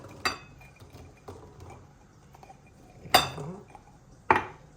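A few garlic cloves drop into a glass jar of pickled chili peppers, giving three sharp clinks spaced over several seconds, with faint rustling and handling noise between them.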